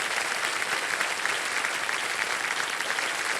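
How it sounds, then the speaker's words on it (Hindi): A studio audience at the quiz show Kaun Banega Crorepati claps steadily, dense sustained applause filling the whole stretch at an even level with no talk over it. "हो गई जिंदा, तालियां बज जाएं"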